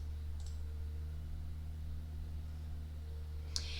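A single mouse click on an edit button sounds as a faint, sharp tick near the end, after a softer click near the start, over a quiet electrical hum.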